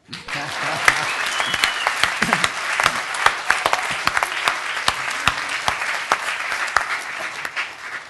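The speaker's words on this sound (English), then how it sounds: "You may applaud now." Audience at a university college anniversary ceremony applauds steadily after a speech, with dense, even clapping and a few sharper nearby claps standing out over the whole stretch.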